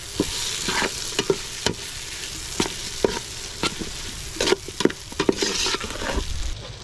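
Sliced hotdog frying in a pan for sopas: a steady oily sizzle with repeated sharp scrapes and taps of a spatula stirring against the pan, close and continuous, with no talking.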